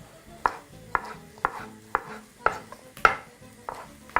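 A knife chopping vegetables into strips on a board: a steady run of about eight crisp, evenly spaced cuts, close and clear with no talk.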